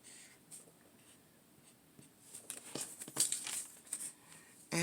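A coloured pen scratches and taps across artwork in short, quiet strokes, growing busier and more insistent toward the end.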